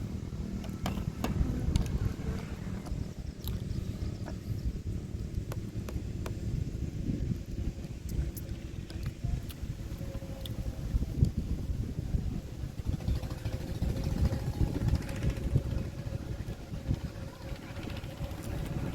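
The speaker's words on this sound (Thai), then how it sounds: "ลมเย็นเนี่ยดีเนาะ" Cool wind blows steadily across the microphone outdoors, a rough low rumble with occasional gusts that continues for the whole stretch, with a person talking casually through it.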